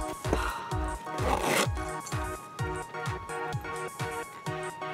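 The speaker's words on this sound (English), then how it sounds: "And zipper test." The zipper on a pair of high-heeled Pleaser unicorn boots is pulled, a close rasping buzz made of a series of rapid ratcheting strokes over a few seconds, with no talking.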